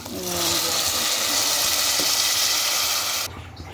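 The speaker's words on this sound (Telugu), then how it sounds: "టూ గ్లాసెస్ వాటర్ పోసుకుందాం" Two glasses of water pour and sizzle into a hot pot of moong dal and bottle gourd curry in a loud steady hiss for about three seconds, then stop abruptly.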